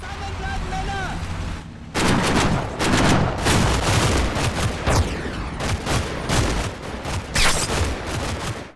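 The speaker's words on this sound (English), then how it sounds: "The squad assembles under covering fire and begins its assault." Gunfire in the video game Combat Mission Final Blitzkrieg as a squad attacks a village under covering fire: loud, repeated bursts and single shots crack out after a quieter opening, some of them with booming echoes.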